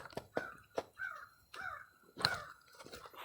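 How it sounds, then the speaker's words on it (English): Crows cawing several times in quick succession, harsh and fairly faint, as if from a distance. "Listen to the birds in the meantime."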